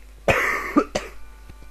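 A person gives two or three harsh, close coughs in quick succession, the first the strongest, with a throaty edge like clearing the throat.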